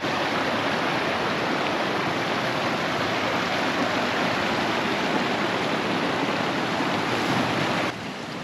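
The Ayusai waterfall roars as a steady, loud, broadband rush of falling water, continuous and unbroken, with no voices.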